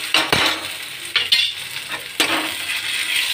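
Onions with ginger paste frying in a pan, a steady sizzle broken by several sharp scrapes and clinks of a spoon stirring against the metal.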